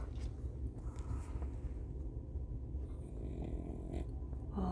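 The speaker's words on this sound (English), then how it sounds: "Oh my, look at the snoring." A dog worn out after wrestling at a dog park snores softly in steady, rhythmic breaths, faint and close, with no talk over it.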